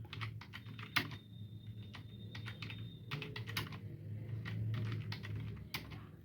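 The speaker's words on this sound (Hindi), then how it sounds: "ये तो आपकी हो गई इंग्लिश टाइपिंग" Keys clatter on a keyboard connected to a mobile phone, in quick uneven bursts of close, crisp clicks with brief pauses between runs of typing.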